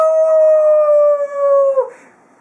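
A person's voice imitates a wolf howling at the full moon: one sustained, clear, close howl held for nearly two seconds before sliding down and breaking off.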